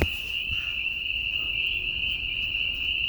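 A deafening night chorus of frogs forms a steady, piercing high trill that runs unbroken and loud from start to finish, with no voices.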